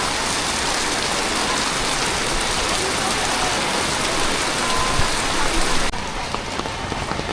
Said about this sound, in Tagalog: So lumakas pa nga ang ulan.